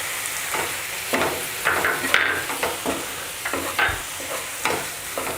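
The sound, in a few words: stirring and sautéing ginger with spices for chicken gravy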